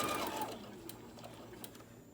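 A domestic sewing machine back-stitching fabric for a small tote bag, a steady close whirring hum that eases slightly in pitch and level, with faint ticks and no talking.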